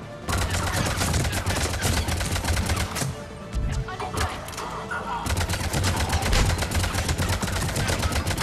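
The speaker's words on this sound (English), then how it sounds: "Shotgun works awesomely." Shotgun fire and combat in the video game Mass Effect 3, rapid repeated loud blasts in dense bursts with a short lull in the middle before the firing picks up again.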